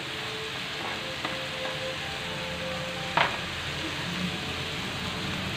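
Bean sprouts and carrot frying in a hot pan for ginisang togue give a steady, dense sizzle throughout, with a few faint clinks of a utensil.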